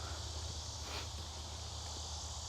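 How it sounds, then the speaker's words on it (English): Cicadas drone on without pause during a hike along a nature corridor, a steady high buzzing, continuous shrill chorus with a low background rumble underneath. "I see cicadas are in season."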